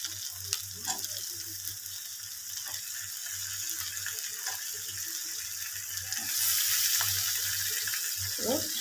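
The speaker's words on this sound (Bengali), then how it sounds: "এবার আমি এর মধ্যে পনিরগুলো দিয়ে দেবো।" Paneer pieces going into a pan of sizzling pointed gourd curry, a constant frying hiss with scattered clinks and scrapes of stirring, growing louder toward the end.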